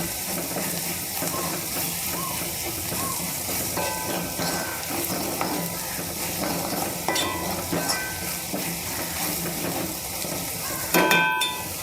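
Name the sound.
frying curry leaves and turmeric for soybean curry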